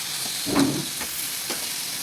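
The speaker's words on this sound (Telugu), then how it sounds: "ఆవిరి అయిపోయేదాకా కొంచెం కలుపుకోవాలి." Soya curry with moong dal being stirred in a pan, a steady close sizzle with a few soft scraping strokes of the spoon, briefly louder near the middle.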